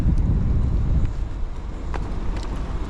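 Low, buffeting wind rumbles across the microphone outdoors under a bridge while fishing, steady with gusty swells and no one speaking.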